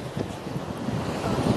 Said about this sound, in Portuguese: Deve estar vento, não sei se está dando para vocês me ouvirem.